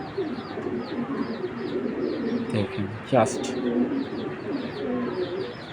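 Belgian-bloodline racing pigeons coo in a loft, a steady layered murmur of low throaty calls, while someone talks briefly over them.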